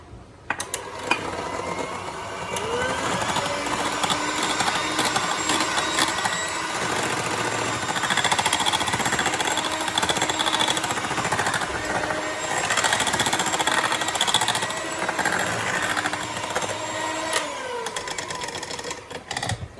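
Electric mixer whirring steadily through marble cake batter made with eggs, vanilla essence and milk, a loud continuous motor whine with rattling beaters against the bowl, close and without talk.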